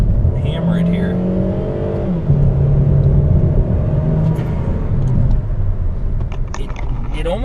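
A Chevrolet Sonic with a 1.4L engine and a Trifecta tune pulls hard from low RPM, its engine note climbing steadily and loudly with a rising drone, while a voice can be heard over it.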